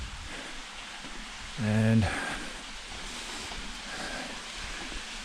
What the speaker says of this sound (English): The sound of running water all around